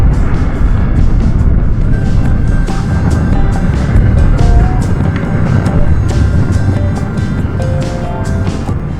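A BMW F900XR motorcycle engine on a test ride, revving below 6,000 rpm with a quick shifter: a loud, steady drone with wind rush, the pitch rising and falling slightly over several seconds.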